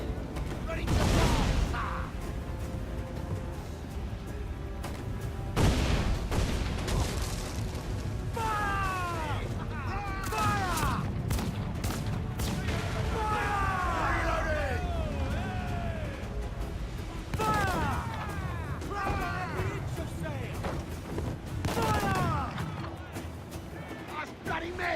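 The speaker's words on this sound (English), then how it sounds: "when he hits you with cannon fire, he's got 4 volleys" Cannon volleys from a legendary enemy ship in Assassin's Creed IV boom in heavy bursts among sea-battle noise, while someone talks over much of the action.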